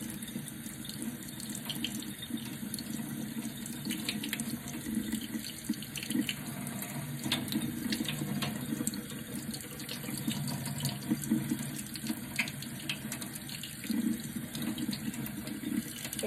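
Water pours steadily from a tap into a bath, a continuous close splashing gush that stays even throughout with no voices.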